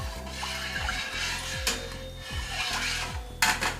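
Cow's milk being stirred in a pot for feta style cheese: a repeated scraping rasp of the utensil against the pot, close and steady in a rhythmic back-and-forth, with a brief clink near the end and no talk.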